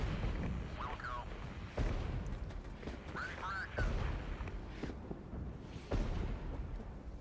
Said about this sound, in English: I'm gonna drop artillery on this guy